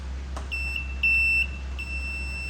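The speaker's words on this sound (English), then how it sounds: "Got a buzzer. I just want to see if it works." An electric buzzer on a 1964 Ford Galaxie gives a steady high-pitched tone that stops and restarts three times, with a brief click near the start, over a low hum.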